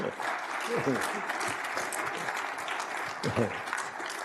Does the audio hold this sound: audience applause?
yes